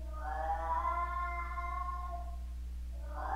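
A cat meows in a horror game set in a school: one long, drawn-out wavering cry, fairly loud and clear over a steady low hum, followed by the start of a second call.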